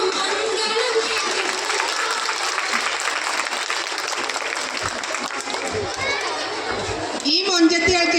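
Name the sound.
applause for the Oppana dancers at a school annual day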